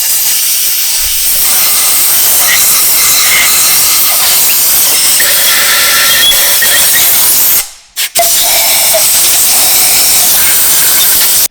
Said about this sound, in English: Here I'm just adding some compressed air